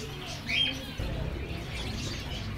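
A male saira finch and canary cross sings in a cage at an outdoor Sunday bird market in Quetta, giving a brief bright chirp over a busy background murmur.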